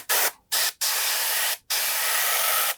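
An airbrush sprays thick paint in four hissing bursts, the first two short, the last two long, each starting and stopping abruptly, close and loud.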